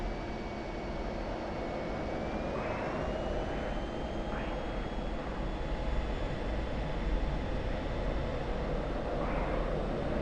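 Loud, sustained roar of an F-16 Viper fighter jet during airshow practice, a dense engine rush with a rising tonal whine that stays constant for about ten seconds, with faint voices surfacing briefly under the noise.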